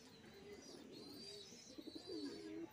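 An old pigeon of a long-kept Kotashi breed coos softly at a distance, a few low rolling notes ending in a fuller warbling coo against faint background noise.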